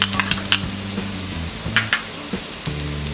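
Finely chopped carrot goes into a pan of softened onions frying, a soft steady sizzle broken by scraping stirs and light taps of a utensil against the pan, close and without any talk.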